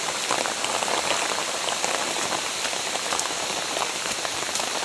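Heavy rain pouring steadily in a rural province setting, a close, dense hiss and patter on surfaces with no pauses and no talking.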